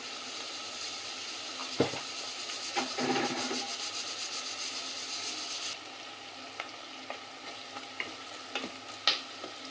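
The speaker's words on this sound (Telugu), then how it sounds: "బాగా ఫ్రై అయ్యే వరకు వేయించుకోవాలి" Chicken frying with turmeric in a pan, a steady soft sizzle broken by scraping stirs and occasional sharp knocks of a spoon against the pan.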